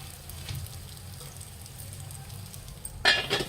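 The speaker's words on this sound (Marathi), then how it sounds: "आणि मग तेल टाकून घ्यायचं आणि मीडियम गॅसवर आपल्याला होऊ द्यायचे वरून झाकण ठेवायचं" Fasting appe frying in oil in an appe pan on medium gas, a soft steady sizzle close by, ending with a sharp metallic clink of the pan or lid.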